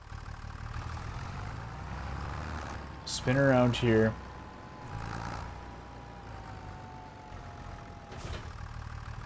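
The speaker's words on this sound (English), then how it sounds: "let's get this tractor fired up" A tractor engine in Farming Simulator 25 runs at a steady, low idle throughout, a constant rumble with a brief spoken line over it partway through.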